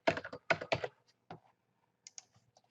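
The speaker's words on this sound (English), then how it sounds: "I'm just going to type in special offer." Quiet typing on a computer keyboard: two quick bursts of crisp keystrokes at the start, a single stroke, then a few softer taps after a pause.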